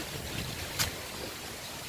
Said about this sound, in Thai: วันนี้ลมแรงมากๆเลยค่ะ